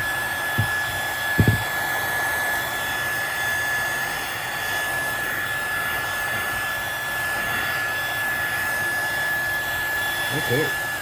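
A hair dryer blows steadily on a distressed and dyed piece, a continuous close roar lasting throughout, with a few faint knocks near the start and the end.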